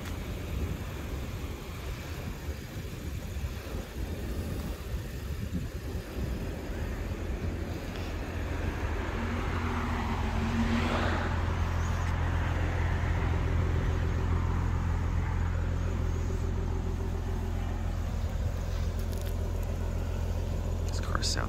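A black 2018 Maserati Ghibli engine runs with a low, steady rumble that grows slightly louder partway through, heard under a person speaking quietly.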